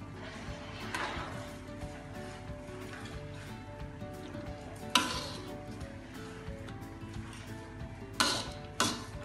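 Mie tektek noodles frying with cabbage, scallion and tomato are stirred in a pan, a steady close sizzle broken by a few sharp scrapes and clacks of the utensil near the end.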